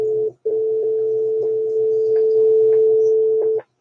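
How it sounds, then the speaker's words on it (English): A steady telephone dial tone sounds loud and close, broken by one brief gap near the start and then held for about three seconds before it cuts off. "Well, I got dial tone now."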